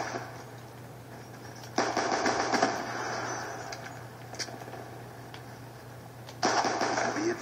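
Gunfire in the video game Black Ops 2, pistol-only match: two loud bursts of rapid shots a few seconds apart over a steady game hum, with a few sharp isolated clicks and impacts between them.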